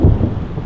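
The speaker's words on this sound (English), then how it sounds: "Thundering and shit as well." Thunder rumbling through a rainstorm during an outdoor riding session, a dense low roar with steady rain noise, loud and close for under a second with no talking.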